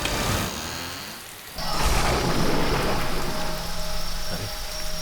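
Heavy rain pours steadily while thunder cracks and rolls loudly, then fades into a continuing downpour.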